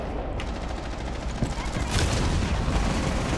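Gunfire in Rainbow Six Siege, a sustained rapid automatic burst with sharp cracks and a louder volley near the end, close and moderately loud, with players talking over it.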